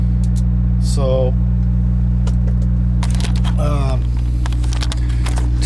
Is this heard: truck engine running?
yes